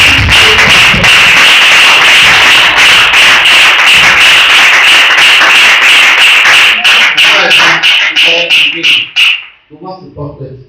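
Loud, close rhythmic clapping from a church congregation cheering for Jesus, steady beats with shouts and voices mixed in, then the clapping breaks up and fades at the end.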